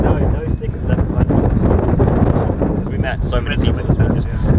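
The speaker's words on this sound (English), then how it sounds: "It is very windy now, so I don't even know if you can hear me." Strong wind roars and buffets the microphone in gusts while someone talks underneath.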